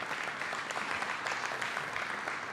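Audience clapping at a mayoral budget engagement forum in an elementary school, a steady, moderately quiet spread of many hands applauding from across the room.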